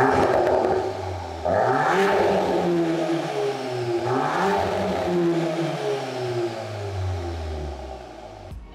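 A 2023 Volkswagen Golf R with its factory Akrapovic exhaust revs up twice in strong rising surges, each falling back to a rumbling idle before a long deep settle, loud and close with no talking.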